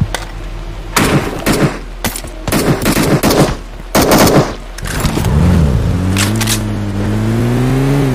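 Gunfire in a shooter video game, several loud bursts of automatic shots in clusters, followed by a rising engine-like hum.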